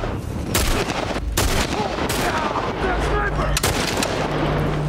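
Gunfire in The Last of Us, several sharp loud shots spaced irregularly over a rumbling game background, close and punchy with brief gaps between them.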